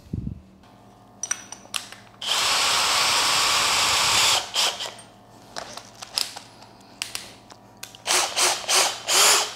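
A Bosch GSB 18V-50 cordless brushless drill bores into hard wood, with a loud two-second burst of whirring and grinding, then scattered clicks, rattles and short mechanical bursts as the bit and chuck are handled.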